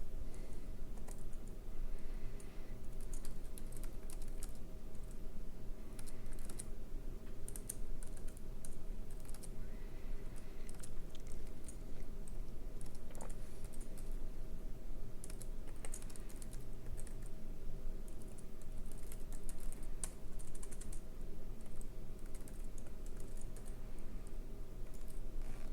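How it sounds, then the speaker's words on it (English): Code is typed on a computer keyboard as a rapid, continuous patter of key clicks lasting over twenty seconds, close and moderately quiet over a low steady hum. Nobody speaks. "So I'll type some code in here"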